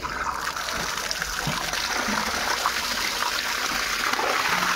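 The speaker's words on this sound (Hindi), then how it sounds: "इस खुली में भी पानी भरना हो चुका है शुरू" Steady rushing and trickling water pours continuously into a tank, a broad even hiss with no pauses and no voices.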